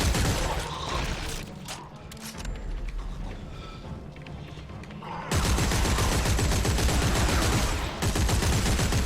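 Gunfire in the video game Dead Space 3: dense, continuous shooting that fills the whole stretch and grows louder and heavier about halfway through, with rapid rhythmic bursts.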